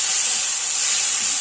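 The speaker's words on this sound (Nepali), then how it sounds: "मजाले फ्राई गर्नुपर्छ एकछिन।" Kinema, fermented soybeans, frying with chili powder in a pan gives off a steady, close hiss and sizzle that holds evenly throughout, with no voices.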